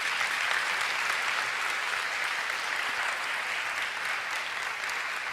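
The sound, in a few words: applause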